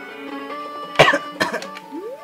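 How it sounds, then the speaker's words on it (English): Two sharp coughs close to the mic, about half a second apart, with a steady hum underneath and a faint rising tone at the end. "I'm coughing so much."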